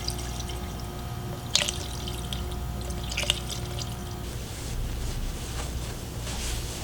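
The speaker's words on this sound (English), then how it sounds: "Now we're gonna fill up with radiator fluid" Radiator fluid is poured into the radiator of a Mitsubishi Evo 9 Special Edition, a steady gurgling stream with a couple of sharp splashes, heard close over a constant low background hum.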